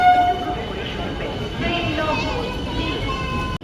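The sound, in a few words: AC local electric train arriving at Barasat junction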